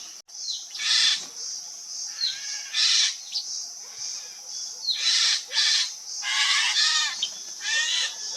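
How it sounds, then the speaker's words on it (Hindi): Small songbird chick, fairly grown, begging its mother insistently for food while she feeds it, giving repeated loud, shrill chirping calls in bursts close by, with no talk. "बच्चा काफ़ी बड़ा है, फिर भी अपनी मम्मी से जिद कर रहा है खाने की"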